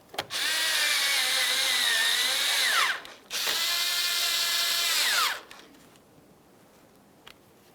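A cordless power tool runs two sustained whirring bursts of about three seconds each, driving 10mm-head bolts into the grille mounting panel of a 2006–2012 Ford Fusion, with pitch dropping as each bolt snugs tight, followed by a quiet pause.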